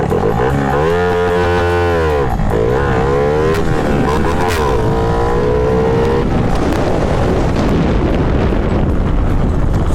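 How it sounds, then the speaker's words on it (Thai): A motorcycle fitted with a new ZBD step 53/0 exhaust pipe revs hard and close, rising and falling in pitch over several throttle blips before settling into a loud, rough idle rumble. "มานี่เสียงท่อกันเนาะ"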